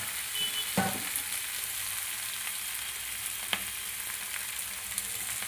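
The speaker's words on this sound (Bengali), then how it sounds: "কাঁঠালগুলো একটু ভাজি" Young jackfruit pieces fry in a pan, making a soft, even sizzle throughout, with a couple of faint stirring knocks and no voices.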